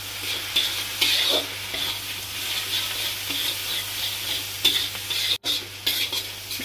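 Spiced rice for egg fried rice being stirred as it fries in a pan: continuous sizzling with repeated scraping strokes, close and steady, a short dropout near the end, no voices.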